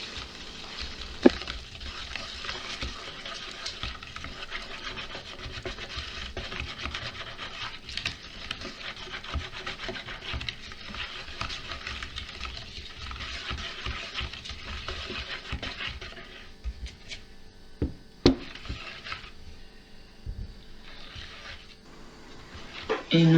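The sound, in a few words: stirring dry ingredients into egg yolk and plant milk batter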